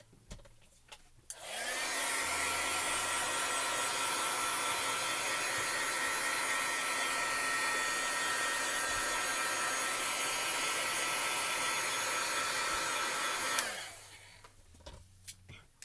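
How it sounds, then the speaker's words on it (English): A heat tool blows hot air over a freshly stamped card in a hobby rubber-stamping session, a loud, steady whooshing roar that switches on, holds for about twelve seconds, then cuts off. "I'm just going to real quick hit it with my heat tool"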